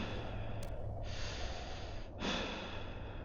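A voice mimics heavy mouth breathing, giving two long, raspy airy exhales up close with a short pause between them.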